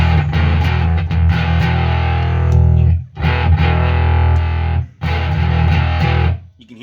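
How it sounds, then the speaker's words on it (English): Electric guitar driven through a Behemoth II bass overdrive pedal set to Clipping Voice 2, heavily distorted and compressed chords ringing loud and sustained, with two brief pauses between phrases. "You can hear it's getting more distorted and more compressed."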